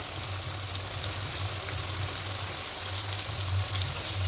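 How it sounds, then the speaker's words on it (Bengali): A paste of poppy seeds and dried chilies fries gently in a pan for a potato and pointed gourd dish, giving a soft, steady sizzle close by with no voices. "এবার যে পোস্ত শুকনো লঙ্কা পেস্ট করেছিলাম এটি দিয়ে দেবো এখানে"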